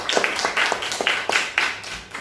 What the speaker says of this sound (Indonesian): Jadi itu betul, tepuk tangan teman-temannya.